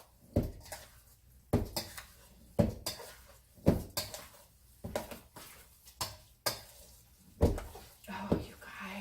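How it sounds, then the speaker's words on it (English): A spoon scrapes and knocks against a dish of rice being stirred for stuffed peppers, giving about ten sharp clinks at a fairly steady rhythm, close and clear, with a quiet voice faintly under them. "I'm going to go ahead and stir this up, kind of get that rice cooled off a little bit."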